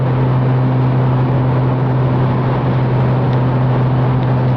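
Steady, continuous drone of a Mustang V6 with an MRT Interceptor axle-back exhaust cruising at 80 mph, with a low engine hum and broad road and wind noise, no talking.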